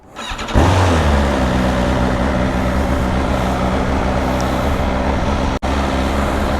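A motorcycle named Blackie, left unused for a while, cranks and starts, then settles into a loud, steady idle as it warms up, close by, with one brief dropout near the end.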